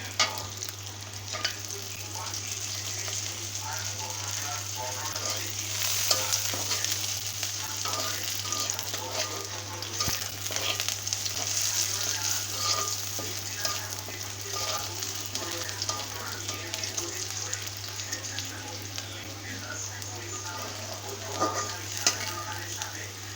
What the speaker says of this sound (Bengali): তো এটাকে ভাজা ভাজা শেষ করে নিয়ে আমি তারপরে আমি কালো জিরে ভাজবো।